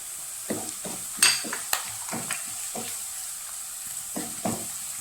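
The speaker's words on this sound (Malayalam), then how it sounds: "വഴറ്റി കൊടുക്കുക. കറിവേപ്പില ചേർത്ത് കൊടുക്കാം." Rose apple pickle mixture with dried red chillies and curry leaves sautéing in a hot pan, a steady loud sizzle broken by repeated scraping stirs and a few sharp spatula knocks against the pan.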